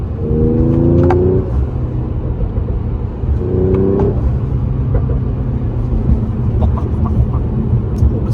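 A 2021 Mercedes CLS 53 AMG in Sport+ mode, its engine droning steadily with two short revving surges early on, then settling into a continuous low rumble and road noise, fairly loud and close, with no talk over it.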